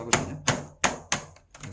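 Laptop keyboard keycap snapped into place during a hinge self-repair, four sharp plastic clicks at an even pace followed by a softer fifth tap, close and clear with no talk.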